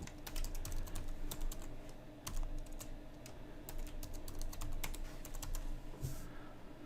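Fingers tap out a password on a computer keyboard, a quiet, close run of quick clicks and keystrokes with short pauses between bursts, no voices.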